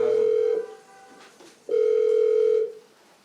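A telephone rings onstage during a live Hindi stage play: two long, steady electronic ring bursts separated by a short pause, loud and close, with no talk over them.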